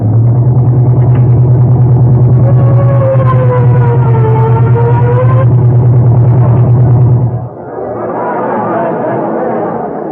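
A car engine runs loud and steady for about seven seconds, then drops away abruptly into a quieter, more distant rumble. A few voices murmur faintly underneath.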